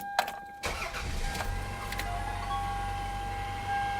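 A Toyota Camry with the 2.2L 5S-FE engine cranks briefly and catches, then settles into a smooth steady idle close by after the start.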